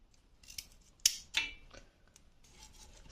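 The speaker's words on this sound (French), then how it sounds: "Je vais couper les carottes." Carrots being cut with kitchen scissors while preparing homemade baby food, a few crisp close snips with two sharp louder cuts near the middle, no talking.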